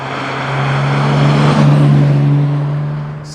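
A 1960s Aston Martin DB6 drives along with a steady, loud engine drone and strong low hum that swells slightly mid-way, accompanied by road and wind noise, with no one talking.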